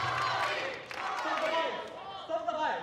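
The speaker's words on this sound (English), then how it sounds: "The crowd are chanting Shibagi." A squash crowd at the El Gouna International 2022 men's semi-finals chants a player's name, a steady roar of massed voices filling the arena beneath a commentator's speech.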